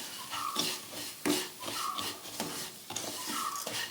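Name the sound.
stirring semolina (rava) into ghee in a pan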